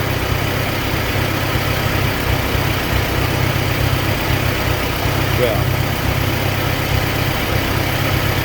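A steady low engine rumble from an Allis-Chalmers D17 Series IV tractor idles continuously throughout, with a constant loud drone and no clear changes in pitch.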